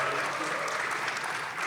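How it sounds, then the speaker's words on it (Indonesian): Audience applause at a press event with the PSSI chairman, a dense, steady wash of clapping from a seated crowd that holds even and fairly soft throughout. "Tepuk tangannya dulu."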